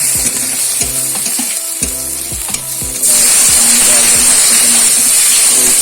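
Cumin seeds and crushed chili masala frying in hot oil in a kadhai for a dried fish curry, with steady loud sizzling and scraping stirs, intensifying into a harsh hiss partway through.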